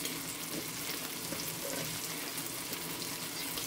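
Onions and scrambling eggs fry together in a pan, giving a steady, close sizzle with faint scraping and stirring through it and no talking.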